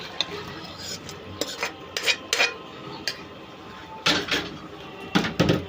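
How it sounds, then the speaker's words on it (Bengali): Milk and yogurt being whisked together in a bowl for mishti doi, with irregular bursts of clinking and scraping against the vessel, close and fairly loud, separated by short pauses and a steady low kitchen background. "ভালো করে ফেটে নিতে হবে দুধটাকে"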